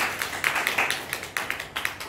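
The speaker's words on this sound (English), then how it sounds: "So clap for Sir Salman" A small group claps for a guest after a talk on learning English: a run of sharp, fairly even hand claps at moderate distance, about eight to ten in two seconds, with no voices over them.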